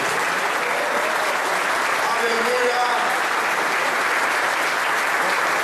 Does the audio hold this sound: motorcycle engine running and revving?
no